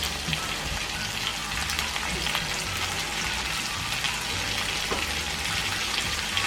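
Tomatoes frying in a mutton karahi, a steady close sizzle like light rain with occasional crackles and faint stirring, continuous and free of talk.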